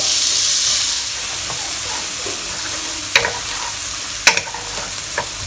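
A whole bulb of chopped garlic sizzles steadily in 30 grams of unsalted butter, with a continuous frying hiss broken by a few sharp clinks and scrapes of a utensil stirring the pan.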